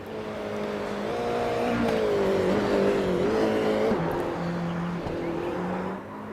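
A Toyota GR86 race car on a hot lap at Barber Motorsports Park in a racing video game, its engine droning steady and close, with pitch shifting through gear changes and corners.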